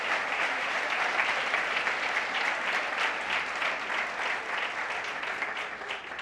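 A church congregation clapping hard together during a service, a loud sustained wash of applause lasting several seconds that eases slightly toward the end.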